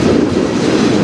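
A CN freight train with several locomotives rolls past close by, a steady loud rumble with rail clatter and wheel noise filling the whole second, no voices.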